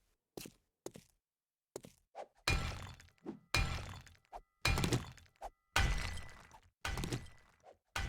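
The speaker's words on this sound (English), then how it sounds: "we're hitting this thing with a pickaxe in a very stealthy way" A pickaxe striking stone blocks in a video game, a series of sharp crunching impacts that start sparse and quiet, then grow louder and more regular, each followed by a short crumbling tail.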